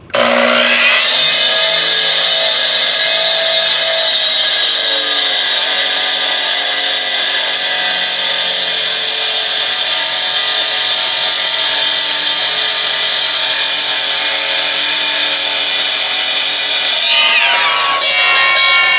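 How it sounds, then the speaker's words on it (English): A loud masonry saw whines steadily through brick for most of the clip, a sustained high-pitched grinding roar that cuts off abruptly near the end. "Go over to the saw here. This might get a little bit noisy."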